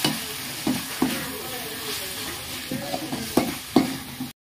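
Prawn thokku frying and being stirred in a pan, with a steady low sizzle broken by several sharp scraping stirs of the spoon against the pan, heard close up and alone.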